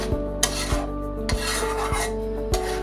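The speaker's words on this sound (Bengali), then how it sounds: "আমি এখানে আমার সেই বাটা মশলাগুলো দিয়ে সুন্দর করে এটাকে কষিয়ে নিব" Ground spice paste for egg korma is stirred and fried in hot oil with bay leaf and cinnamon, giving rhythmic scraping strokes about every half second over a steady pan hum, with no talking.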